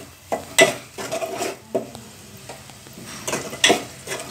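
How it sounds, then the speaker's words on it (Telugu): Onion paste frying in a pan for Andhra-style crab curry, with a soft background sizzle broken by several sharp scrapes and clinks of a spoon stirring against the metal pan, heard alone without talk. "ఆనియన్ పేస్ట్ వేసుకుందాము, ఇదిగోండి। ఇప్పుడు దీన్ని వేపించుకుందాం"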